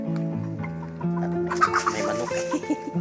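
Chickens clucking on a provincial farm, several hens making repeated short clucks and calls at close range, with a brief busier burst of noise midway and no speech.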